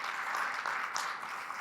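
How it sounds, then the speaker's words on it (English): A conference audience at a multiple sclerosis patient program claps steadily, a dense, even wash of many hands sustained throughout without any voices. "So just take a moment to give yourselves a round of applause for doing that."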